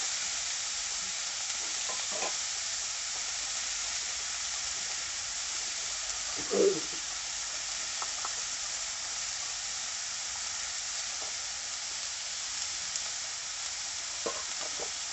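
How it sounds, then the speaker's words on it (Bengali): Bottle gourd and potato with spices frying and being stirred in a pan, a steady soft sizzle with occasional scrapes and clinks, no talking. "এবারে লাউ আর আলুটা দিয়ে দিচ্ছি। মশলা ভাজা হয়ে গেছে, দিয়ে ভালো করে কষিয়ে নিচ্ছি মশলার সঙ্গে।"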